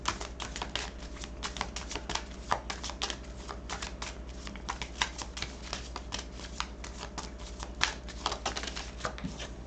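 A deck of oracle cards shuffled for an angel card reading, a quick steady run of crisp riffling snaps and flicks, close and fairly quiet, with no talking.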